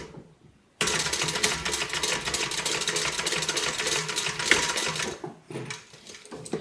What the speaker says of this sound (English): I'm going to stitch on that line.